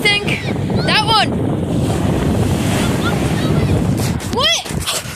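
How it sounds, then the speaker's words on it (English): Ocean waves roll and crash at a beach in steady, loud surf with wind buffeting the microphone, while excited voices exclaim briefly near the start and again near the end. "Look at the waves"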